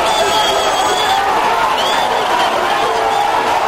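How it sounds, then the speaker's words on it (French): A dense crowd of excited voters at a polling centre during an election, producing a steady, loud roar of overlapping voices and shouts with no break. "Au milieu d'une foule d'électeurs surexcités"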